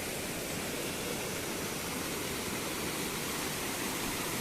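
Rainwater pours over a field embankment in a village during damaging rain, a steady, dense rushing wash that stays loud and unbroken throughout, with no voices.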